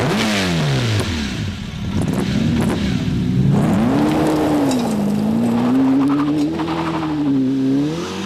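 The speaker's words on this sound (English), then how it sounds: "Engine start." A 1995 TVR Cerbera sports car fires up and revs hard, its engine note swooping up and down in loud, close sweeps before settling into a steady, rising throttle roar.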